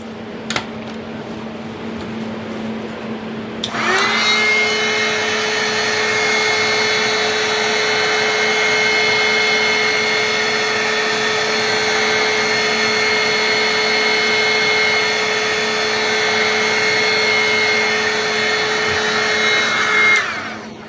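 A heat tool warms resin for rugged-edge coasters, starting after a few seconds of quiet as a loud, steady blowing whir that holds unbroken until it cuts off at the very end.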